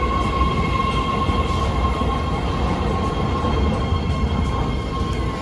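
Inside a BART Fleet of the Future ten-car, three-door red line train to Richmond riding toward 19th Street, a loud steady rumble of wheels on rail runs continuously with a high, thin whine above it.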